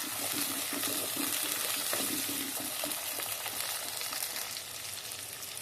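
Garlic, shallots and onion fry in a pan with a steady, dense sizzle and crackle, joined by occasional stirring scrapes, loud and close throughout and easing slightly near the end.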